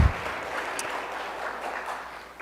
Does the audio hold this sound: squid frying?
no